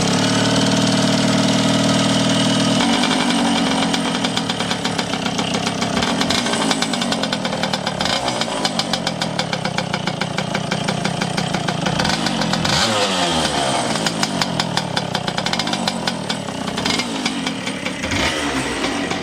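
A racing kart engine with a big pipe, from a private test day, starts and runs close by, giving a loud, raspy two-stroke buzz that revs up and down for almost twenty seconds.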